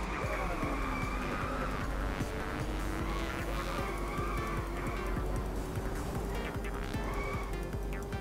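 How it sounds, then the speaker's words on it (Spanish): Video game car from Inertial Drift accelerating through a tunnel: a steady, rising engine drone with whining higher overtones and echoing reverberation, with faint squeals and Spanish commentary voices in the background throughout. "El sonido del túnel es buenísimo, tío. Se nota cómo se acelera el coche."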